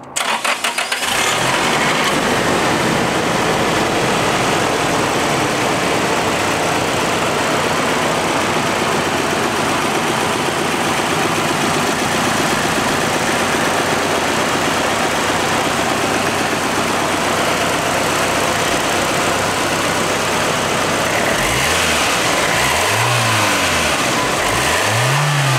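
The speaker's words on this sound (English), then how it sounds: "Let's hear the cold start." A 1995 Nissan 200SX S14 Zenki in all-original condition is started cold: the starter cranks and the engine catches, then settles into a steady, loud idle that runs close by, with a couple of small revs near the end.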